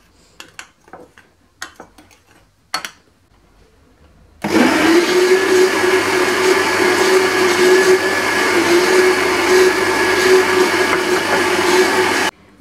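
Electric blender mixing chocolate cake batter of flour, cocoa and leavening, starting after a few light kitchen clatters and then running loud and steady for about eight seconds before cutting off.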